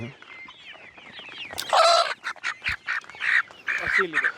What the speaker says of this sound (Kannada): ಇದು ಅಸೀಲ್ ಕೋಳಿ.